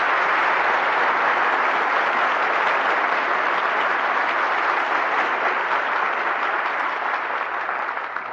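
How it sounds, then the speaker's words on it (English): Studio audience applause at the end of a 1941 Lux Radio Theatre broadcast of Johnny Apollo: sustained, even, dense clapping from a large crowd filling the whole stretch with no talk. "Your applause calls our stars back to the footlights."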